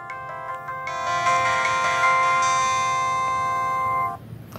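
Samsung SGH-X510 mobile phone playing its startup sound: a bright, steady electronic melody of clear tones that starts within the first second, holds for about three seconds, then stops abruptly.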